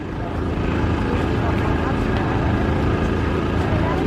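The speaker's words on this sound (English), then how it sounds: "Little single cylinder gas engine in it." At a Reynolds Museum car show, an antique car's little single-cylinder gasoline engine idles at about 140 RPM, giving a loud, steady, low thumping rumble heard up close against outdoor background noise.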